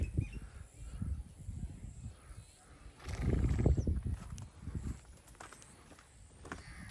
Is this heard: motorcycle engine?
no